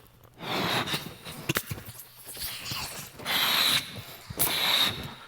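A balloon is blown up by mouth in several long puffs of breath, with a breathy rush rising and falling between short pauses, close to the microphone and fairly quiet, with no talk over it.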